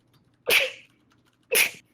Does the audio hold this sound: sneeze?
yes